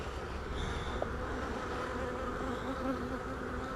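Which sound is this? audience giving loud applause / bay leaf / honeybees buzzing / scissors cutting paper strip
honeybees buzzing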